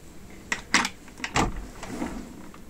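Kitchen drawers in a Carthago C-Line campervan slide open and shut, giving several close, short knocks and thuds with a soft rumble of the runners in a quiet interior.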